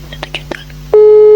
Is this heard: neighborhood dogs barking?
no